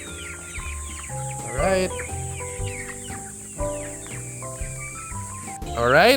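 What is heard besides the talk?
chickens clucking while eating their morning feed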